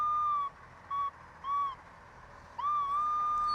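Nokta Legend metal detector in pinpoint mode, emitting a clear electronic tone in four short beeps of varying pitch and length, the last longer and steadier, over faint outdoor background.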